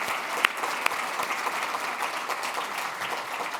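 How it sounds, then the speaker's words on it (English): A round of applause at a government affairs forum breakfast, steady crowd clapping at moderate volume with a couple of sharper nearby claps standing out early. "I want to give a round of applause to you and your team"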